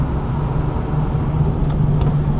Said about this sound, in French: Attends, j'entends une voiture là.